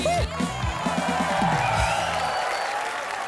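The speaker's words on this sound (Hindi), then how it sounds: "जोरदार तालियां" Loud game show studio audience applause with a burst of cheering, steady clapping sustained throughout.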